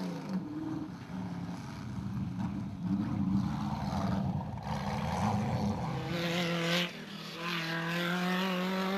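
A Jimco off-road race car at the Lydenburg 400, engine running rough and strained, revving steadily up and down at close range, fairly loud, with no talking.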